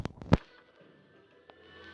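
A sharp gunshot in a video game rings out near the start, a few quick cracks bunched together, then a lone fainter pop follows over a quiet background hum.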